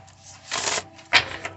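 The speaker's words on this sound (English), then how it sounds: "Let me give these a quick shuffle." Oracle cards shuffled by hand in two short riffling bursts with quieter rustling between, close and fairly soft with no talking.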